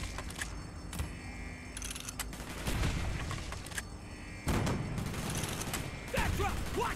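Gunfire and machine-gun bursts in the video game Call of Duty: Black Ops; sharp shots and rattling volleys crackle over a constant battlefield rumble, with mechanical clanks throughout.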